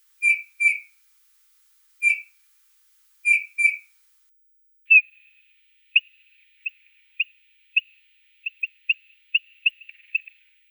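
A Eurasian bullfinch calls: soft, low, piping whistled notes repeat in short pairs, followed by a run of fainter, sharp single calls spaced about a second apart.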